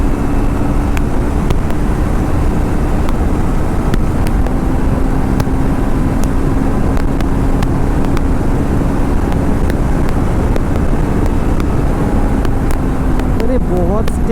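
A Triumph Scrambler 400X motorcycle accelerates hard at full throttle toward its 10,000 RPM red line, a loud, continuous engine drone rising under heavy wind roar from close range.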